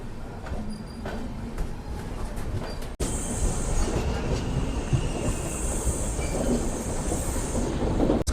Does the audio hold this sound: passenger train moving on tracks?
yes